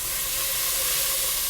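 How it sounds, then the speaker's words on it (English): Food sizzles in a pot while chicken tortilla soup is being made, a steady, close, bright hiss with a faint tonal hum beneath it and no talk. "They're just sizzling."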